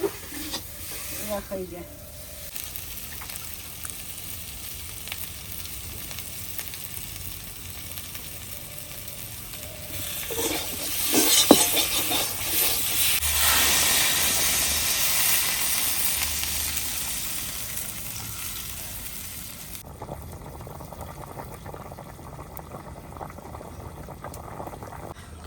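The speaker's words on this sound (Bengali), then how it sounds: "আলুটা কষানো হয়ে গেছে, আমি এখন জল দিয়ে দেবো।" Water poured onto sautéed potatoes in a pan bursts into loud hissing sizzle that swells and settles into a steady boil, with a brief voice near the start.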